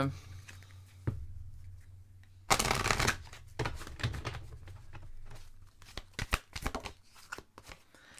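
Tarot cards shuffled for an advice-card draw: crisp riffling and rustling bursts, strongest in a dense flurry early on, then scattered flicks and taps, close and fairly quiet, with a low steady hum beneath.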